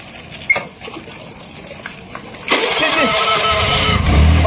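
A motorcycle engine catches after a brief attempt and settles into a steady, fairly close idle, with a sharp knock just before and some ambient noise around it.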